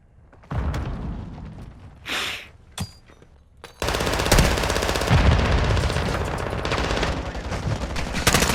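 Gunfire in the video game Call of Duty DMZ: a few isolated shots and thumps give way to long, loud, continuous automatic bursts, with a voice briefly heard among them.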